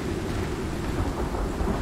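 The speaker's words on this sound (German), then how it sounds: "Das Gewitter ist übelst, ja." A heavy thunderstorm in the survival game Icarus roars with deep, constant rumbling and dense rain hiss, loud and unbroken, with no voices.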